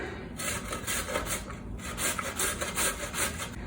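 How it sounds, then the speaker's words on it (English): Sweet potato is rubbed steadily against a sharp box grater, a rhythmic rasping of repeated strokes, close and fairly quiet, with no voices. "So I'm just gonna be grating until this is all done."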